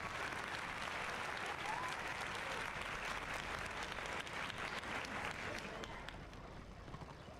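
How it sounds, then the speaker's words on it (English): Applause alert sounding during a Warhammer Online: Return of Reckoning live stream, heard as a soft, steady wash of crowd clapping that runs throughout and fades slightly toward the end. "I think I heard that applause."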